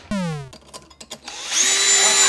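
A power drill fitted to sharpen chainsaw teeth spins up with a rising whine, sputters through a few short bursts, then settles into a loud, steady high-pitched grinding against the chain.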